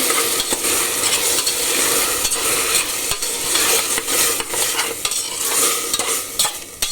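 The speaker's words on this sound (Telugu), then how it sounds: "కొంచెము సాల్ట్ వేసి బాగా కలబెడదాం." Paneer biryani masala stirred in a pan with salt, a steady scraping stir over a constant sizzle of frying spices, close and loud with no talk.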